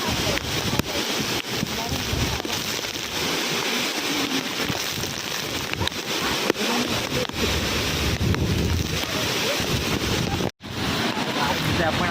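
Roaring waterfall at Savatsada near Chiplun in the Konkan, water pouring down a cliff in a dense, unbroken rushing wash close by, with wind buffeting the microphone and faint voices beneath.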